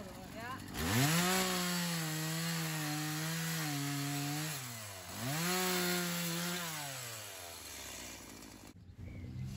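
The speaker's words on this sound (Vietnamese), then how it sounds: "Trước anh đi mua cái cưa máy này" A chainsaw cuts garden trees, its engine revving high in two long, loud bursts with a brief dip between, close by and steady, then cutting off near the end.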